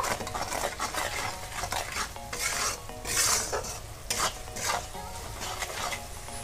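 Spice masala and salt sizzle as they are stir-fried in a pan, with repeated scraping strokes of a spoon against the metal over a continuous hiss.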